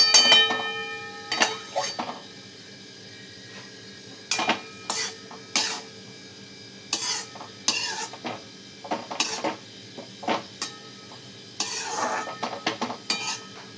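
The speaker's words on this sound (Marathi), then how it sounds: "आता झाकण ठेवून घेऊ आपण डाळ शिजण्यासाठी" A lid goes onto a pot of moong dal cooking with onion greens and tomato, with scattered sharp metallic clinks and clatters spaced apart over quiet kitchen background.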